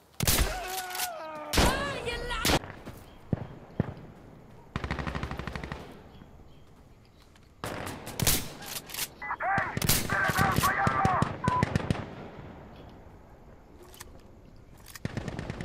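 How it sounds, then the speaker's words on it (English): Machine gun fire in loud bursts of rapid shots, some sharp and close, others in sustained rattling volleys, with short gaps and a voice speaking between the bursts. "Machine guns, you'll notice the difference."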